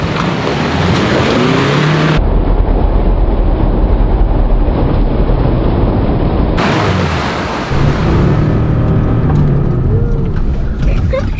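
A 4WD vehicle in low gear with the front locker engaged is floored through a muddy off-road water hole, its engine roaring loudly and continuously with sloshing water throughout, close up and without a break.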